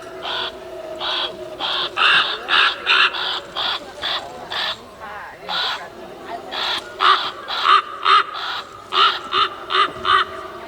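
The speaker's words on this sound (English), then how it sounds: "I'm not sure who you're laughing at, Crow" An animatronic crow at the 2022 St Louis Renaissance Festival caws and cackles in a long run of loud, evenly spaced raspy bursts, with a short pause midway before the rhythmic calls pick up again.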